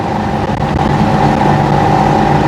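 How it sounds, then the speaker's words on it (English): A car with a custom stainless-steel exhaust idles loudly from inside the cabin, giving a steady low droning rumble that holds constant throughout. "The car's just loud."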